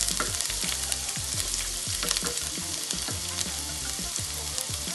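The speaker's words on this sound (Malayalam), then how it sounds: "അങ്ങനെ എണ്ണ നന്നച്ച് ചൂടായി. അതിലേക്ക് ഞാനിതാ 2 നീരുള്ളി ചെറുതായി മുറിച്ചത് 2 എണ്ണം" Finely chopped shallots fry in hot oil for a Kerala-style roasted-coconut chicken curry, a loud, dense, continuous sizzle and crackle close to the pan, with rapid popping throughout and no voices.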